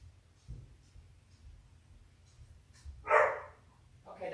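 A pet dog barks in a quiet home, one short loud burst near the end, with a faint thump earlier and low room hum throughout.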